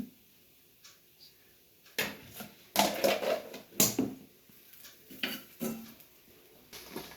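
Grated coconut is roasted in a pan as cumin and coriander powder are added. A few sharp spoon-on-pan clinks and short scraping stirs sound close by after a quiet start, with no speech.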